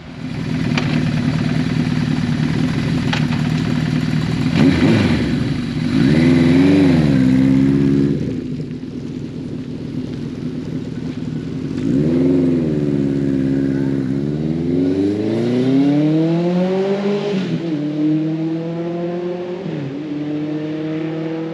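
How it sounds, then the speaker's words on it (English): A Suzuki GS1100L motorcycle with a newly installed clutch on a test ride, its engine droning steadily then revving up and down through several gear changes, loud and close with wind noise and no talk. "I just got back from the test drive on the GS1100L, and everything went smoothly."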